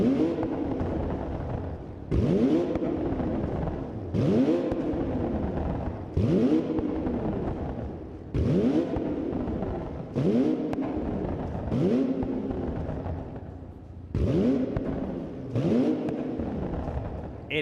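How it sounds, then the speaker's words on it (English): A 1968 Ford Mustang exhaust revs in about eight repeated bursts, each rising and falling roughly every two seconds, loud and close with no talk over it. "I wanted to show you off my exhaust. You hear it?"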